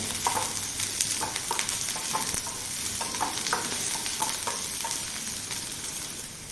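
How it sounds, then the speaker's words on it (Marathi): Okra being fried over medium heat in a pan gives a steady close sizzle, broken by regular scraping knocks of a spatula as the pieces are tossed and stirred, with no voices. "भेंडी असं छान सरपूस भाजून घेतल्या की त्याच्यामध्ये तिखटपणा बिलकुल पण राहत नाही चांगली परतून घेऊया"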